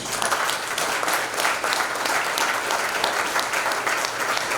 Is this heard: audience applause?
yes